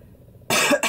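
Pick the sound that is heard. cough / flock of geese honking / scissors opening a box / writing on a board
cough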